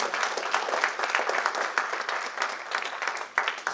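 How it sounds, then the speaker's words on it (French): Applause from the audience at the end of a roundtable on responsible purchasing, a continuous crackle of many hands clapping at moderate loudness, fading slightly toward the end. "Je pense qu'on peut les applaudir quand même."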